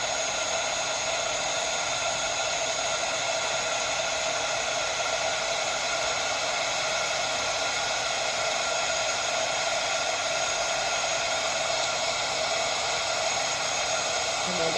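A heat blower runs steadily and loudly at close range for the whole stretch, a constant airy roar with a hissy high band, kept moving over a warped magic cutting mat to flatten it.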